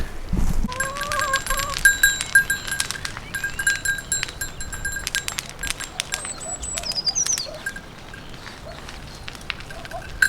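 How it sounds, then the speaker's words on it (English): Goats bleat now and then outdoors, fairly distant, while birds chirp and a steady breezy background hum carries on. "Just thought I'd show you the goats having a wander around."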